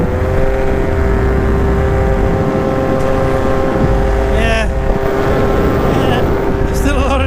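An outboard boat motor fitted with a Twistair propeller runs at speed, with a loud, steady engine drone and whine under heavy wind and water rush. A voice speaks briefly.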